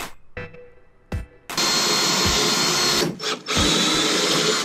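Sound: power drill drilling car trunk

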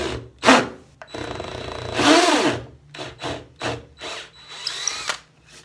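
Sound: power drill drilling through wood

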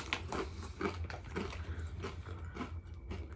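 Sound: biting crunchy Mission corn chips

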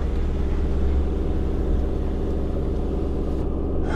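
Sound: car engine climbing a steep gravel mountain road

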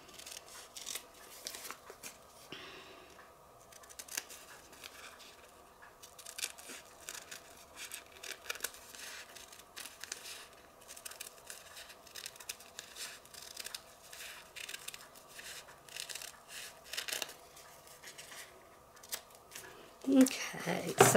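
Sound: scissors cutting fabric for appliqué

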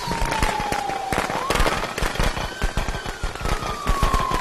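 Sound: firecrackers going off in video game Friday the 13th

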